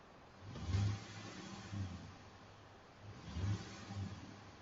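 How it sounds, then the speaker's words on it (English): A 1999-2013 LS V8 pickup truck engine is revved twice, each rev a brief swell in rumble before easing back, heard faintly and without talk. "Let me rev it a little bit."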